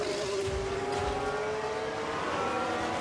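An F1 car in F1 Manager 24 locking up its brakes at Abu Dhabi, a steady high engine whine with a sustained tyre squeal tone, continuous and moderately loud.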